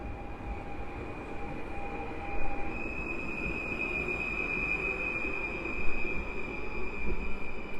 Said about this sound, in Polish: Po krótkim postoju pociąg chemik rusza.